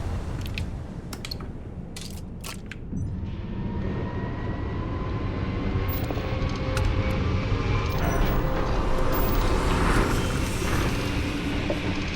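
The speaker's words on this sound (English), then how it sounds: "Switching over to standard engines." Spaceship engines in the Starfield video game drone as a steady, deep rumble with sustained whining tones that slowly swell, joined by a few sharp clicks early on.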